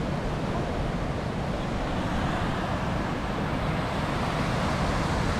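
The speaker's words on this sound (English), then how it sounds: "There's a lot of waves, eh?" Ocean surf at a crowded beach on the coast between Gold Coast and Byron Bay roars as a steady, broad wash of breaking waves, continuous and fairly loud with no distinct individual crashes and no voices.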